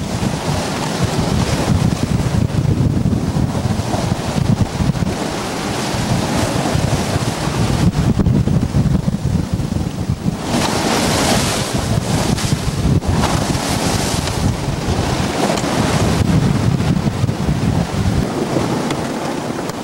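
A boisterous easterly wind roars steadily across the microphone aboard a sailboat at sea, mixed with the constant rush and wash of ocean waves against the hull, loud and unbroken for the whole stretch with no voices.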